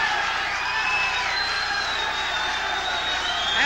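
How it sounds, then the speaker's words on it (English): Steady crowd roar and cheering at a boxing match during a long tenth round, a dense, continuous wash of voices filling the arena at an even level throughout. "the crowd is cheering"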